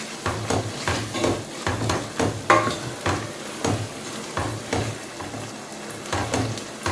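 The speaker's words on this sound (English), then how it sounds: "So you want to stir it." Coconut rice made with coconut paste and a seasoning cube is stirred in a pot, with rhythmic scraping strokes about twice a second over a steady close sizzle of frying.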